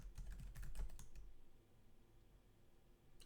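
Keys clack in a quick run on a computer keyboard as a password is entered, a burst of close, light clicks that stops after about a second and a half, followed by quiet room tone and one last tap.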